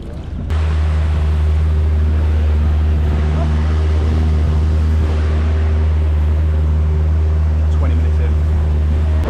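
A boat engine drones loud and steady with a deep, constant hum as the boat pulls away, water noise rushing beneath it throughout.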